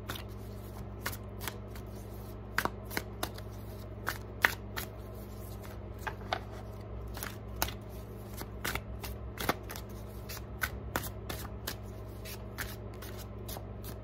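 A Festive Insight Oracle card deck is shuffled by hand, soft repeated riffling and slapping of cards in quick uneven bursts, close and quiet, with no talking.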